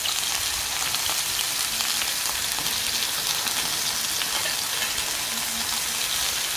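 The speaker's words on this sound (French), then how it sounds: "Et je vais commencer à toaster mes pains." Burger buns toast in a hot pan for homemade hamburgers, giving a dense, steady sizzle and crackle that runs unbroken throughout without any talking.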